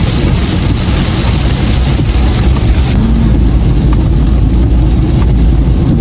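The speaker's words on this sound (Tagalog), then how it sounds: "Lakas ng ulan." Heavy rain pours steadily over a rice-growing area in Mindoro, a dense, continuous broadband roar that stays loud and even throughout, with no voices.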